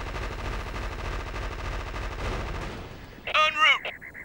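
Gunfire from units attacking targets in the real-time strategy video game Army Men RTS, a steady stream of rapid shots and battle noise lasting several seconds, followed by a short burst of a voice speaking.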